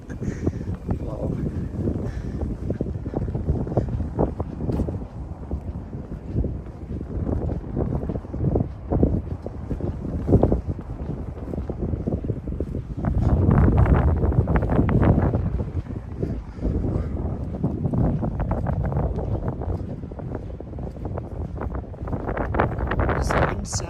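Heavy wind blows through the streets of Tokyo near Takadanobaba, a loud constant roar buffeting the microphone and surging midway, while a voice talks over it.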